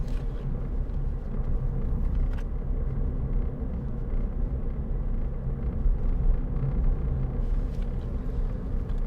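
A 2010 Ford Fiesta 1.4 Titanium five-door driving along on a test drive, its steady low engine and road rumble filling the cabin with no talking.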